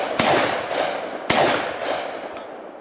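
Two sharp, loud gunshots from a Fed Arm FX4 semi-automatic 12 gauge shotgun, about a second apart, each with a long echoing outdoor decay, no talk.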